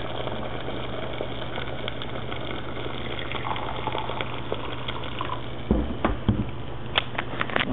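Boiling water poured into a cup, a steady gushing trickle over a constant low background hum, with a few small clinks near the end.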